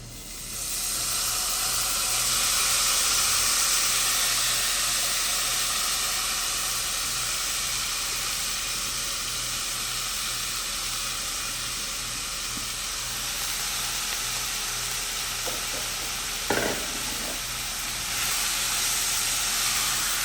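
Garlic and onion frying in a pan, a steady loud sizzle and hiss throughout with a brief clatter near the end, no talking.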